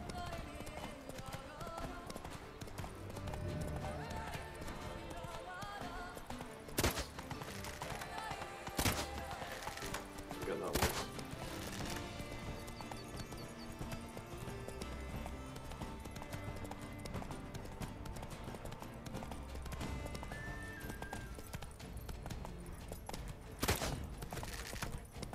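Horse hooves clip-clop steadily while riding in The Witcher 3: Wild Hunt on PlayStation 4, a continuous rhythmic trot under game music and effects with a few sharp impacts, and a voice talks over it.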